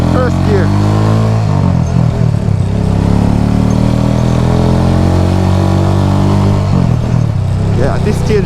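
A motorcycle pulls away in first gear on a road, its engine note rising and shifting up close, with someone talking over it.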